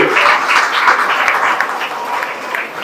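Loud applause fills a news event as a crowd claps hard and continuously for a few seconds, dense and close.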